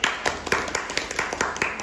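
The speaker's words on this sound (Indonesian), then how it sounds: "tepuk tangan untuk kelompok 1" A classroom group claps for group 1 after a presentation, brief rhythmic clapping from several hands at moderate distance.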